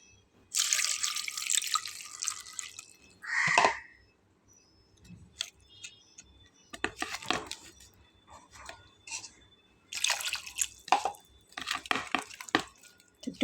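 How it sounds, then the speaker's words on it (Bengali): Water is poured into a pot set up for steaming cabbage, coming in two splashing bursts near the start, with more running and splashing later and quiet handling noises between. "তো এবার দিয়ে দেবো পানি"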